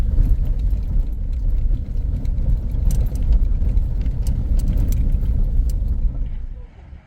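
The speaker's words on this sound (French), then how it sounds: "il faut s'imaginer qu'il y a des énormes camions qui passent" Heavy low rumble of large trucks passing on a road diversion in Peru, a continuous deep engine drone close by that fades toward the end, with some light rattling on top.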